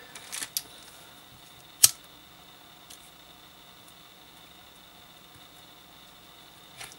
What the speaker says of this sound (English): Cut off that little strand.